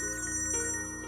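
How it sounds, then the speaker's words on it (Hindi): A steady electronic ringtone trills repeatedly, with sustained tonal bands and a faint metallic ring, moderately loud and without any voices. "आपका फोन बज रहा है"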